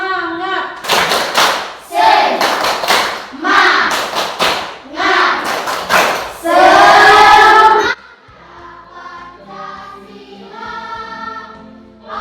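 A primary school class performs a rhythmic clapping routine, with loud bursts of claps in set patterns mixed with children chanting together, and a quieter stretch of children singing at the end.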